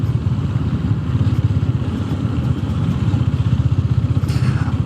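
Honda GB 350 S single-cylinder motorcycle on a test ride, its engine thumping in a loud, steady rapid beat close by over rushing wind, with no talk.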